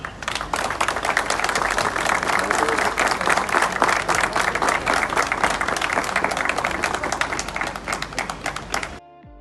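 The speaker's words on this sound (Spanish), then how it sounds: "Un aplauso para ustedes." Sustained applause from a sizable crowd at a hospital event, dense and loud, continuing for several seconds before stopping abruptly.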